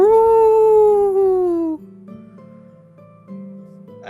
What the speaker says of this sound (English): You guys both hear what sounds like howling of wolves